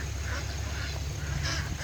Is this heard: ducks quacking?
yes